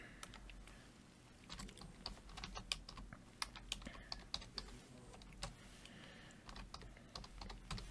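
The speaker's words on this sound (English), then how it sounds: "You just type in there." Quiet typing on a computer keyboard, irregular bursts of soft clicking keystrokes close by with short pauses, no voices.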